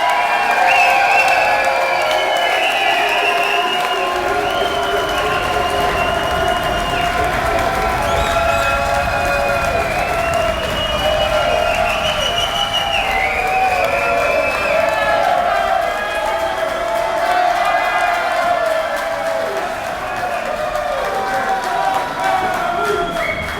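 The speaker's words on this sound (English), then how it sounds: "I had a feeling that was an applause line." Large banquet audience at a high school sports hall of fame induction dinner applauding and cheering loudly, with whoops and shouts over sustained clapping for over twenty seconds.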